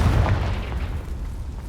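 A Confringo spell detonating in the Hogwarts Legacy video game, a loud booming blast with a deep low rumble that decays over under two seconds, with no voices.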